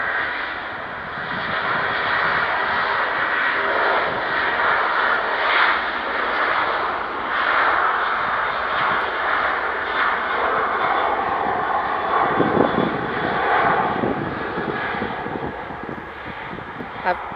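Jet airliner departing Manchester Airport, a broad steady engine roar sustained throughout with wind noise on the microphone, swelling slightly toward the end, while a voice talks over it.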